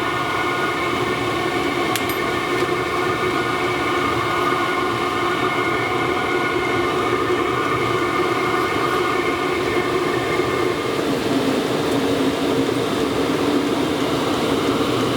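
A diesel heater runs with no exhaust silencer, making a loud, continuous roar with several steady droning tones. The tones fade near the end while the rushing noise carries on.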